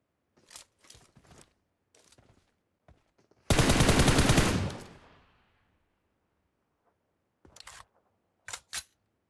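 A dense burst of automatic gunfire from the video game PUBG on the Erangel map rattles loudly for about a second, with scattered single shots before and after, and no voices.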